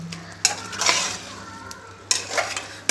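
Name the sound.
stirring green chili chicken fry in a pan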